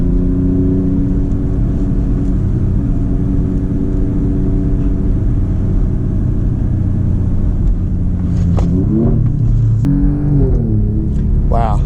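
An Alfa Romeo Giulia Quadrifoglio engine drones loudly as it accelerates in second gear, its pitch climbing in rising sweeps near the end.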